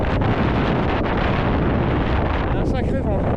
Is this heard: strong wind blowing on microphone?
yes